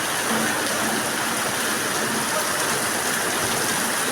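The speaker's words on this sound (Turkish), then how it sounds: "Yağmurumuz güzel yağdı bu arada." Steady, dense rain hisses continuously with no breaks, a broad even patter with no voices.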